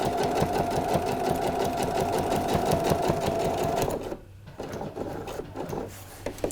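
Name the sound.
sewing machine topstitching fabric for trousers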